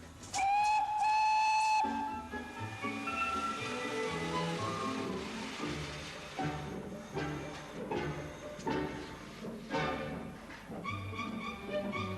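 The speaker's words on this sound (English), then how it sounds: "blow the whistle. Just pull that chain there" A loud steam whistle blasts for about two seconds, then a train chuffs and rumbles steadily with hissing and clanking, with short whistle toots later.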